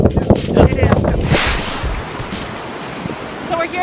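Atlantic Ocean surf rolls onto a beach as a broad, loud wash of breaking water mixed with wind buffeting the microphone, with a person talking briefly over it at the start.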